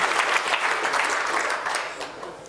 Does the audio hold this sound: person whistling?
no